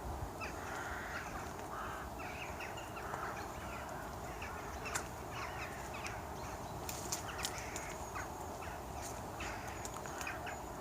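Crows cawing repeatedly at varying distances over a steady outdoor hum, with scattered sharp calls standing out now and then, on a cold winter night in Nottingham.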